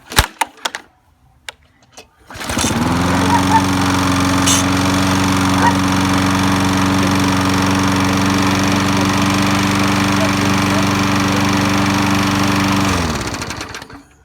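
A few clicks and rattles, then a petrol Q 45 lawn mower engine starts and runs loud and steady nearby for about ten seconds before winding down.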